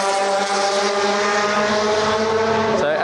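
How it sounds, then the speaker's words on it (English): Race cars at Spa-Francorchamps, including a Mosler, Corvette and Porsche 911 GT3s, roar past in a loud sustained engine howl with a steady high pitch that bends slightly near the end. "So as you can hear, it's all, well, that's a Mosler, Corvette, there's 911 GT3s, 3Rs, 3RSs, a little bit of everything."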